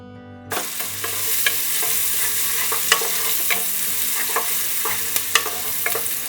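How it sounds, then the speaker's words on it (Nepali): Finely chopped onion frying in a pan for Nepali khichdi, a steady close sizzle that starts abruptly after a brief bit of music, with scattered scraping stirs of a spoon. "प्याज राखिसकेपछि चलाएर एकछिन भुट्दै पकाउने"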